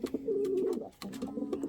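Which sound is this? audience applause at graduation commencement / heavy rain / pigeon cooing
pigeon cooing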